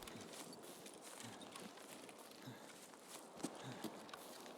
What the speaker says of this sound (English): I thought I was hearing more than one footsteps